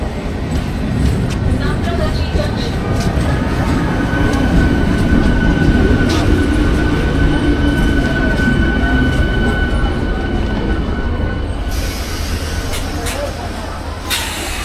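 An Amta local train at Santragachi station makes a loud, continuous rumble and clatter of wheels and carriage noise, with a faint high squeal near the end and people talking throughout.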